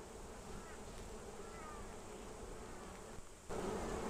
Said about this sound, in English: And the bees are quite loud.